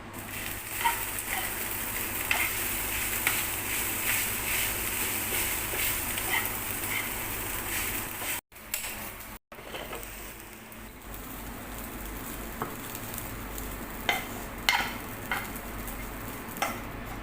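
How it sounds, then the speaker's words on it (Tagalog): Garlic fried rice (sinangag) cooks in a pan for a Filipino breakfast, giving a steady, fairly loud sizzle with scraping stirs and a few sharp utensil clicks near the end, with no talking. "Tapos magluluto pa ako ng sinangag"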